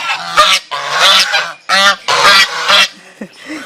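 Ducks honking loudly and close at a home turned into a bird-friendly garden sanctuary, a run of harsh nasal calls in quick bursts with short pauses between them.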